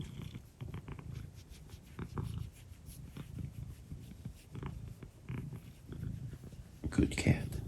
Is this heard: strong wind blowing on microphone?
no